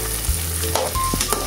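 Onions sizzle in a hot pan while a utensil stirs them, crackling steadily with a few quick scraping strokes, close up.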